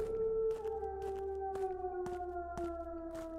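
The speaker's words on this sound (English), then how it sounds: "There's the wolves." Wolves howl in the horror game Skinwalker Hunt, several long tonal wails slowly gliding downward and overlapping, with sharp periodic clicks or steps punctuating the steady background.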